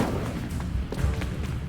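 Incendio fire spell cast in the Hogwarts Legacy video game, a series of booming, crackling fiery bursts with a sharp loud blast at the end, no talking.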